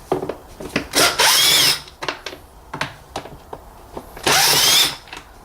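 A power driver fitted with a T20 Torx bit backs out screws on the air filter housing of a 2014 Renault Clio 1.2 16v, two loud whirring bursts separated by clicks and handling noises, close up.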